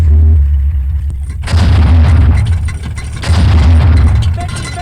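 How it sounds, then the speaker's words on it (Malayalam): Firework bursts on a festival raft go off as loud booming cracks, a couple of heavy blasts with rumbling, crackling tails close by. "പൂക്കുറ്റിയുടെ വെടിപൊട്ടി."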